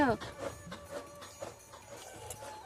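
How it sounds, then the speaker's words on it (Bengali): A fodder-cutting machine chops straw indoors, heard as a rhythmic series of muffled mechanical chunks roughly every half second, in the background while someone talks over it. "আমার শ্বশুর মশাই মিলে দুজনে এখন খড় কাটছে ভেতরে। ওইটা ঘ্যাচ্চা ঘ্যাচ্চা আওয়াজ হচ্ছে।"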